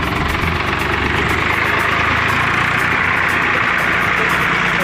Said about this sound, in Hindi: ये ट्रैक्टर लगा है खींचने के लिए